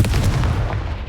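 A Confringo spell blast in a video game lands as a single close, deep booming burst that rumbles for about a second.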